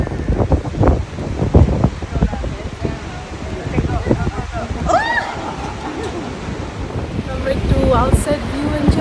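Gusty wind buffets the microphone on a cold, busy beach while surf rolls in the background, with people chatting over it in short bursts.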